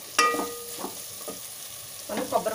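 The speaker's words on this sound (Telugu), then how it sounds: "ఇప్పుడు మనం మసాలా కూడా బాగా ఫ్రై అయిపోయింది" Masala for coconut milk biryani fries in a pan, giving short bursts of sizzle and scraping stirs separated by quieter gaps, close by and with no talking.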